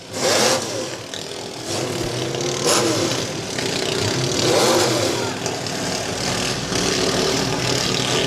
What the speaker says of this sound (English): that's the Ziz motor that they just fired up